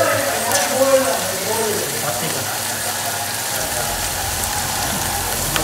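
Ginger garlic paste dropped into onions frying in a pan gives a loud, steady sizzle and crackle that carries on throughout, with a voice talking over it at the start.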